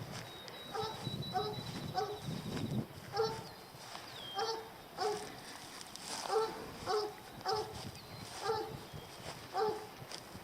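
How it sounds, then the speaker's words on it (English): A coonhound barks repeatedly in regular bursts, fairly close, with a high whine between some barks. "He sure knows how to bark."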